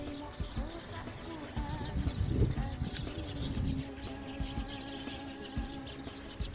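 Birds chirp and coo in short overlapping bursts at moderate distance, with a faint steady hum and some light rustling underneath.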